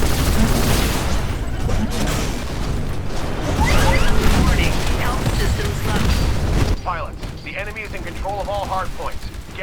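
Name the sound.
gunfire in the video game Titanfall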